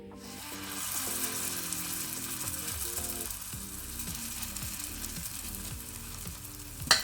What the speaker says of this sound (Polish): Olej mam już rozgrzany, nakładam pierwszą warstwę placków.